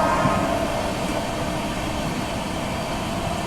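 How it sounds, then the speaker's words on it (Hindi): Inside a moving train, the Varanasi–New Delhi Vande Bharat passes on the neighbouring track, a steady, dense rumble and rush of wheels and wind that fills the whole stretch without a break. "22435 वाराणसी नई दिल्ली वंदे भारत के साथ क्रॉसिंग भी यहाँ पे हो रही है"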